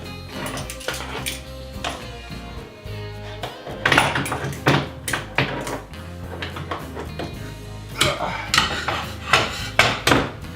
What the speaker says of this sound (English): just clamp these things together like this